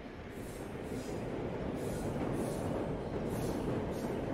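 A London Underground District Line train rolls along with a steady, continuous rumble and rushing roar, wheels on rail throughout, no clear voices.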